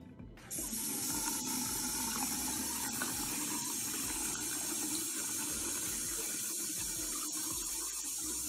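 Tap water running from a faucet in Jackson, Mississippi, starting abruptly and then flowing in a continuous close rushing splash.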